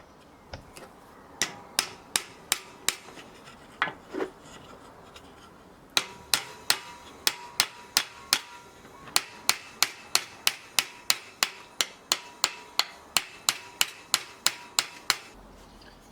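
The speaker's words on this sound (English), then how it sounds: "then hammer in the second nail" A hammer drives a nail into a wooden garden line marker with a long run of sharp, evenly spaced blows that quicken toward the end, close and alone.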